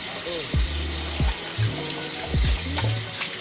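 Tap water runs steadily into a sink during a face rinse, a continuous close wash with splashes as hands move through the stream, and a voice speaks over it.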